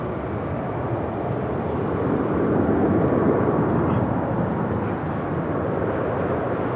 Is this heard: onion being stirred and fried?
no